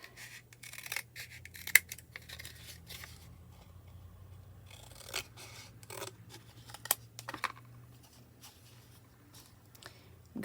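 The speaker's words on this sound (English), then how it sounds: "So I'm going to cut this piece off" Scissors snip through a piece of paper, trimming off a section for a junk journal embellishment, with several short crisp cuts and rustles over a steady low hum, close and fairly quiet.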